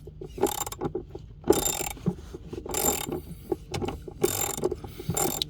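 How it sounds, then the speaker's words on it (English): A ratchet turns in rapid clicking bursts while a Jeep Grand Cherokee L battery is replaced, close and crisp, with several runs of pawl clicks separated by brief pauses and faint handling noise. "So I still need the ratchet."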